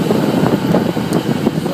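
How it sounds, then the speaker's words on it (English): Steady, loud wind buffets the microphone while riding a motorcycle at about 45 mph, a continuous rough roar with no voices. "All this wind."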